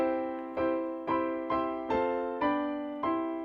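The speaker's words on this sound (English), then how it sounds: "As opposed to something like a major chord" A major chord on a bright, sustained instrument, struck about seven times in a steady rhythm, each strike ringing out and fading before the next.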